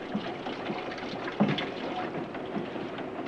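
Steady water pouring from a water cooler in a train car into a container, a continuous close trickling splash with a small knock partway through.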